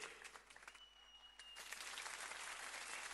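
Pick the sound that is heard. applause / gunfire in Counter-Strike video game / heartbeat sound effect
applause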